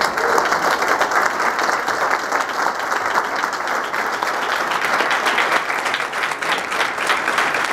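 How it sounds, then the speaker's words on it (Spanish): Sustained, dense applause from a large audience at a 2019 Soundcheck Expo press conference in Mexico, steady and loud throughout with no clear talk over it. "Y quiero un fuerte aplauso para este gran mexicano, Sergio Díaz."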